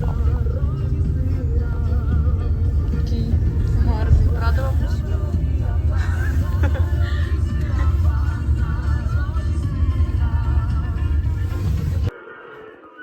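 A car drives along with a steady low rumble of road and engine noise filling the cabin, voices faintly present, until the sound drops away sharply near the end.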